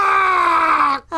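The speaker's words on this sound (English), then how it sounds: "I'll scream this out" A cartoon character lets out a loud, sustained scream of pain lasting about a second, ending in a brief break and a short strained rising cry.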